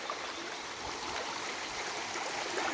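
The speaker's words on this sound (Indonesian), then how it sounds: "masih sungai kecil" Small natural stream flowing from a spring in the rice-field countryside of Cikondang village, a steady close rushing and trickling of water with no voices.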